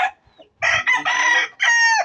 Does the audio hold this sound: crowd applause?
no